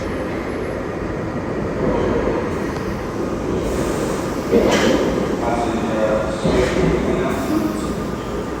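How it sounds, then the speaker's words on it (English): A London Underground Piccadilly line train bound for Uxbridge rumbles steadily throughout, with rising surges of noise midway, and people chat nearby over the rolling din. "We're taking the train up to Uxbridge."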